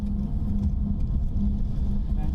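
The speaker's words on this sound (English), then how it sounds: "Equally stark are these cargo trucks. Dozens of them waiting to cross over into Russia and Belarus." Dozens of cargo trucks wait at a border crossing into Russia and Belarus, giving a low, steady engine rumble nearby, faint and continuous with no clear events.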